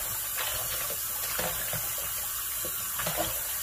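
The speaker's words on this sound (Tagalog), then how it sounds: "You wash chicken again." Tap water runs steadily while raw chicken is washed in a sink, a continuous near hiss of flowing water with small splashes and handling noises throughout.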